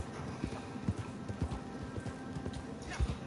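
A horse gallops in a video game, with steady clip-clop hoofbeats, a faint whinny-like snort and a low murmur of voice behind it.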